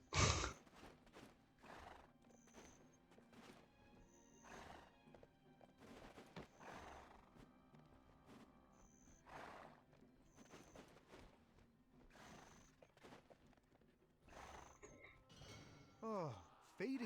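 Horses in the Black Desert Online video game whinny and snort while hooves clip-clop in an irregular rhythm, close and clear, with a few brief game sounds between them.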